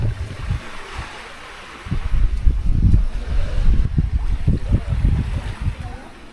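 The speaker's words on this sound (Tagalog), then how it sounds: "halos po halos dagat lang yung naririnig mo" Sea at a beach in Coron, Palawan, with waves washing ashore in soft surges and rising louder partway through, mixed with gusty wind buffeting the microphone.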